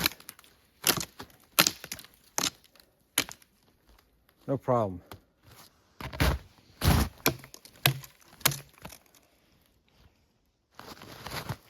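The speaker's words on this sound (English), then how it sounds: "Let's see how it does at chopping these branches here." A Varusteleka Skrama 200 knife chops through branches, giving a series of sharp, loud wooden cracks and splintering hits in irregular bursts, with brief talk between strikes.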